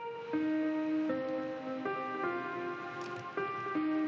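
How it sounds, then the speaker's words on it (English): A slow piano melody in a lounge-style song, single sustained notes stepping up and down one after another, clear and close with no voices. "It's a piano."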